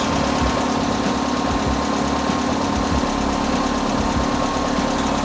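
A cheap $800 car's engine idles with a suspected cylinder misfire: a steady, close rumble with an uneven, knocking pulse running underneath, and no voices.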